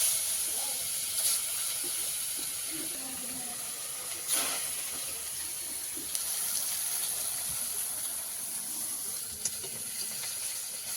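Fish rubbed with salt and turmeric frying in hot oil in a wok, giving a steady, moderate sizzling hiss with a few sharper spits and pops.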